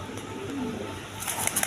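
A young Gorra pigeon coos softly in a short, faint burst against a noisy background.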